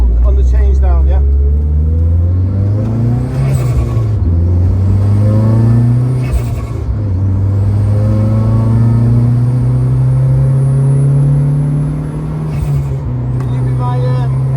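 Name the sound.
car engine revving during track day laps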